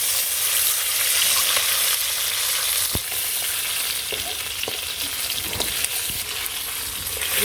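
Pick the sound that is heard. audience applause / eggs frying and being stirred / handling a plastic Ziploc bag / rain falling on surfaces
eggs frying and being stirred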